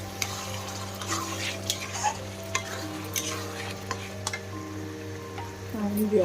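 Masala spices frying in a pan for an Odia fish curry, with a steady sizzle under repeated stirring scrapes and light metallic clinks, close and moderately loud, with a faint voice in the background.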